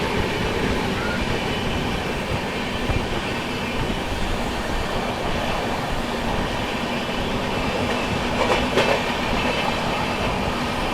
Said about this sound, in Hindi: चलिए अब ट्रैक साउंड एंजॉय कीजिए